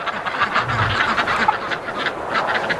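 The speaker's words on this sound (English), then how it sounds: "Crazy ducks." Ducks outdoors in a snowstorm give a few brief, moderately close quacks over a hissing, windy background.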